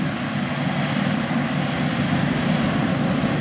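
A Case IH 9240 Axial-Flow combine with a 16-row Case IH 4416 corn head harvests corn in the field, giving a steady, loud, broadband engine and machinery roar that holds even throughout.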